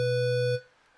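Synthesizer tone blending two waveforms: a single steady, loud, buzzy note with rich even harmonics that holds for about half a second, then cuts off sharply into a faint tail, with no one talking.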